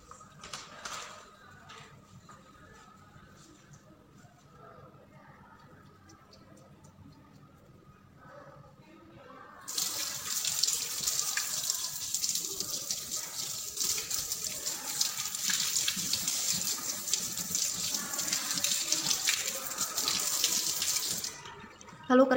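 Hands washed with soap under a running tap, first quiet rubbing and faint water, then a loud steady gush of faucet water that continues for a long stretch.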